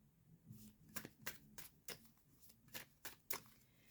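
Animal message cards are shuffled in short riffling bursts, about eight quick crisp flutters spaced roughly half a second apart, close and quiet with no talking.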